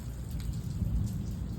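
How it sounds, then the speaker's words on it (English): Light rain falling outdoors in a front yard in Arizona City at the end of a storm, a soft steady patter of drops on surfaces with a low rumbling bed underneath, constant and fairly quiet throughout. "just a little bit of rain."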